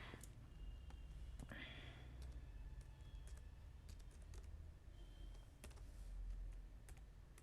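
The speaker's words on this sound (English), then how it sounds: "my password I am typing" A computer keyboard typed on in short, faint bursts of soft key clicks at a quiet desk, with low background noise.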